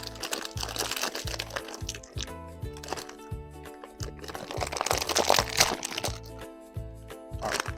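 A plastic bag of Fiesta shredded cheese is pulled open, giving close, rapid bursts of crinkling and crunching plastic in uneven clusters with no talking.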